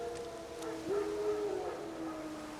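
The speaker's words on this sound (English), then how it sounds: "No. Wild dogs." Wild dogs in the video game The Witcher 3: Wild Hunt give a long, rising and falling howl at middle distance over quiet outdoor ambience, with a fainter answering howl trailing after.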